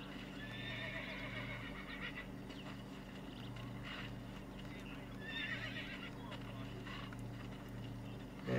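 Horse in the Red Dead Redemption video game neighing in several high whinnies, with steady clip-clop of hooves over a droning in-game background and someone talking throughout.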